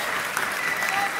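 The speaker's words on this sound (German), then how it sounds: "Fetten Applaus für Tom." An award show audience claps in a brief, steady burst of dense applause that holds an even level from start to finish.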